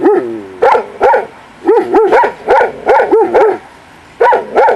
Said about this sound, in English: She can see another dog over there.